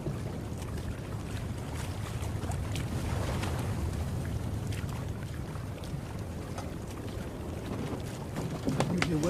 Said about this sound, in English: You hear waves, sir. Waves breaking up on the shore.